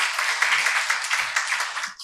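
A church congregation applauds after a special song, with steady, dense hand clapping from many people that fills the room and fades slightly at the end.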